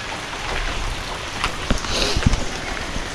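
Rain falls steadily in a soft, close hiss at night, with a few louder drops and knocks and some faint talking in the background.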